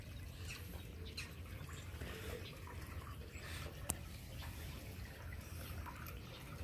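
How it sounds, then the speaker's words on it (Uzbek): A natural spring flowing at a shrine, a steady soft wash of running water with faint bird calls and one sharp tap partway through. "Mana bu birinchi buloqimiz."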